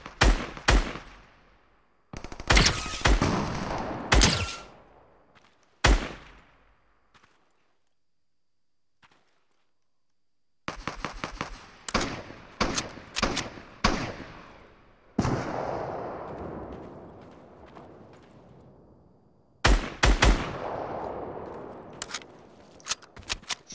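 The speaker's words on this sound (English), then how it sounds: "Watch this, I'm gonna shoot him." Gunfire in the Fortnite video game: several sharp bursts of rapid shots separated by short silences, then longer volleys of repeated cracks and booms, loud and close with no talking.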